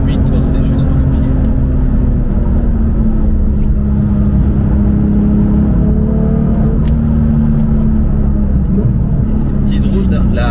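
A Porsche 991 GT3 Touring engine revving to around 7000 rpm on small rain-wet roads, a loud sustained drone with rising and falling pitch heard from inside the car, heavy rumble and road noise throughout.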